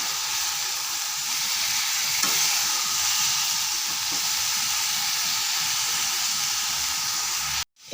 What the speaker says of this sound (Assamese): এতিয়া অকণমান ভালকৈ এইখিনি লৰাই দিম।